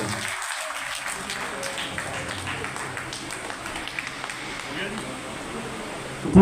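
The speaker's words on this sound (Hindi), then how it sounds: "एक बार जोरदार तालियां बजा दीजिए" Audience applause at a Sindhi community commemoration of Partition Horrors Remembrance Day in Delhi, a steady wash of clapping from a crowd lasting several seconds with no break.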